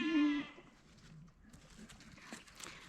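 A goat lets out one clear, close bleat near its goat house, followed by quieter shuffling and soft movement sounds from the herd.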